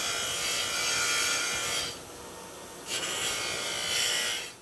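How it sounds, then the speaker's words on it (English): A car cover on a 1965 Impala being cleaned by rubbing, a close, steady abrasive scrubbing that pauses briefly and then resumes. "I'm gonna clean the cover up"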